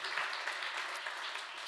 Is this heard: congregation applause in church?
yes